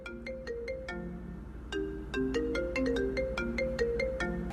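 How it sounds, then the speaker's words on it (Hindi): A phone ringtone plays a repeating electronic melody of bright, evenly spaced tones, loud and close in an indoor drama scene, with no talk over it. "शाजिया के बाप का फोन है।"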